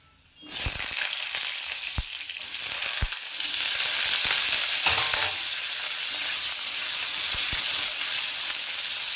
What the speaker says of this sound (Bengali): আলুগুলো ওই পনিরের মতন করে কেটে নিয়ে ছোটো ছোটো কিউব কিউব করে তো আলুটাকেও আমি ভেজে নেব প্রথমে